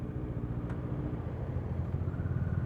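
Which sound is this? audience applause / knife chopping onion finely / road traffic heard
road traffic heard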